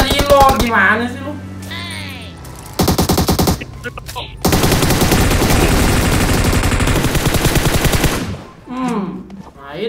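Rapid machine-gun bursts fire at an enemy in a shooter game, with loud sustained automatic fire in the middle and shorter bursts before it, under excited talking between players.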